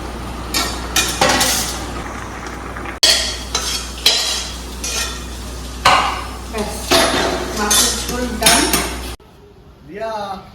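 Fish going into hot oil for a spicy hotel-style fish curry with chilli paste and coriander, giving clattering pan and utensil knocks and stirring scrapes in uneven bursts, close by, with a voice briefly heard near the end.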